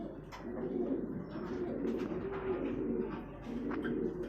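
Soft, low cooing from a pair of pigeons at a small pigeon farm repeats steadily throughout, with a few faint higher chirps over a quiet background.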